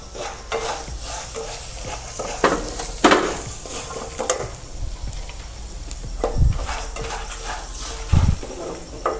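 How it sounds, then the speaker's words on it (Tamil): Curry leaves crackle and sizzle in hot oil in a home kitchen, cooked for a festival kootu. Steady frying hiss runs throughout, with sharper spitting bursts and faint stirring scrapes. "கொஞ்சம் கருவேப்பிலை போட்டுக்கிறேன்"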